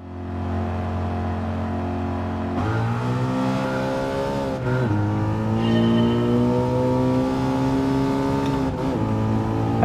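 A Ford Mustang Shelby GT350 with its V8 in Gran Turismo 7, revving steadily and climbing through gears with a couple of sharp shift drops, loud, close and continuous.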